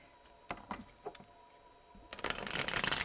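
A few crisp card snaps, then a burst of rapid riffling as a tarot deck is shuffled close by, papery and dense, with no voices.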